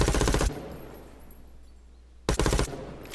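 Automatic gunfire from a gun in a mobile first-person shooter game: a loud rapid burst, a pause with a fading tail, then a second short burst.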